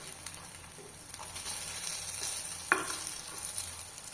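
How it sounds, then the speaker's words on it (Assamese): Brinjal pieces frying in a pan as the lid comes off and the slices are turned, a steady soft sizzle running throughout with one sharp clink of the lid or utensil midway. "আৰু এতিয়া লুটিয়াই দিম ঢাকনিখন আঁতৰাই।"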